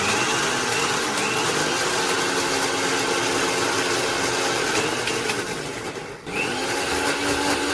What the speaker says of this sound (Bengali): মিক্সার গ্রাইন্ডারটা নিয়ে আমাকে বাইরে যেতে হচ্ছে